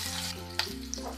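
Cumin, onion and chopped garlic frying in oil in a pan for a fava bean and potato sabzi, with a close, brief crackling sizzle and a couple of sharp stirring clicks.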